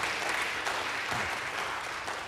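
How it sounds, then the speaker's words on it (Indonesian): An audience at a married couples' seminar at an HKBP church in Menteng gives steady, moderately distant applause. The dense clapping holds an even level throughout, with no talking over it. "kita berikan aplaus,"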